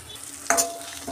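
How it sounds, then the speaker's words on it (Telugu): Chana dal, urad dal, coriander seeds, fennel and cumin fry in a pan, giving a soft sizzle broken by one quick, close stir-scrape about halfway through. "ఇవన్నీ మంచి రంగు వచ్చే వరకు ఇలా ఫ్రై చేసుకుందాం"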